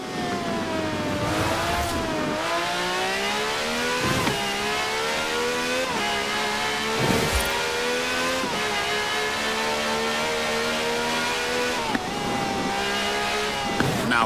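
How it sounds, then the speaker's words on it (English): A V12 supercar with over 750 horsepower accelerating in Forza Horizon 4, its engine revving hard and climbing through repeated gear shifts, loud and continuous throughout with brief dips between gears. "This has a V12 with over 750 horsepower, plus bucket seats."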